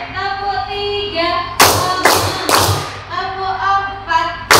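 Children in an Indonesian classroom clap in a counted rhythm, three sharp group claps about half a second apart, with a teacher's voice and a sustained tone running under them.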